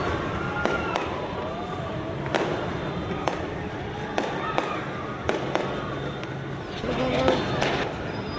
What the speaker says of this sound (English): You might get to see a lot of fireworks.